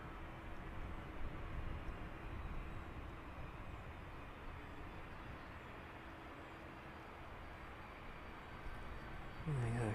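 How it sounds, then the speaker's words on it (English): An airliner lands at East Midlands Airport on an evening runway with its reverse thrusters engaged, producing a steady, distant roar that persists throughout. "There we go on the reverse thrusters there"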